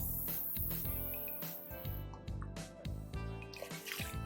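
Water poured into a cooking pot, splashing and trickling in uneven bursts with small drips and gurgles, fairly quiet and close, pausing briefly midway before resuming.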